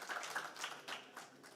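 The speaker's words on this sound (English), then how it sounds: "I will ask you a round of applause, if it's possible, for them being here" Audience applause for conference panelists at a digital summit tech stage, a short burst of scattered clapping that stays moderately faint and fairly distant.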